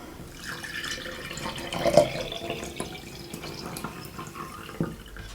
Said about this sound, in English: So then I just pour my water in.